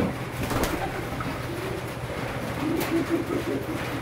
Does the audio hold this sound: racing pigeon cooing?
yes